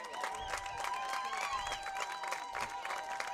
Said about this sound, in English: A measured time clap for the Panther faithful.